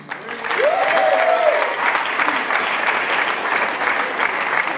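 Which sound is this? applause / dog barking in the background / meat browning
applause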